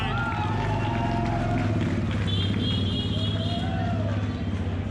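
A motorcycle engine revs and drones steadily, the roar holding loud and fairly near, mixed with background crowd noise and a voice over a speaker.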